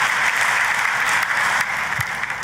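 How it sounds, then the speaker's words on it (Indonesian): A church congregation applauds in a dense, steady roar of clapping that carries evenly throughout, with no talk over it. "Kita kasih tepuk tangannya yang paling meriah buat Tuhan kita."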